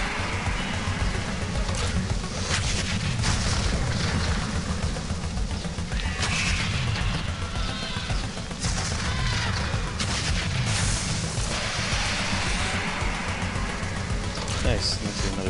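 Gunfire rattles almost nonstop as players shoot at a bulldozer boss in the video game Sanctum 2, bursts layered over dense game noise and engine-like rumble, with people talking throughout.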